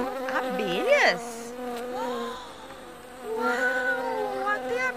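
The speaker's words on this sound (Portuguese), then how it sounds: "Até abelhas a gente encontrou" Bees found outdoors buzz close by in a continuous drone that bends up and down in pitch, swelling and easing as they move.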